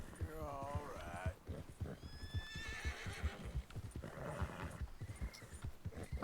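Horse neighs and whinnies in Red Dead Redemption 2, a descending wavering call near the start, with hoof clip-clop and game background sounds continuing beneath.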